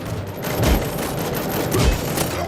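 Gunfire rattles in the RoboCop: Rogue City video game. A steady, dense stream of shots plays over a broad noisy combat background, with two heavier low booms punctuating the firing.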